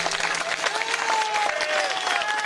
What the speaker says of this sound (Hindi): आप तमाम साथियों से रिक्वेस्ट है, एक जबरदस्त ताली हो जाए